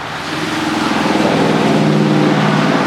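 A vehicle engine revs and growls steadily nearby, holding a loud, rumbling drone throughout.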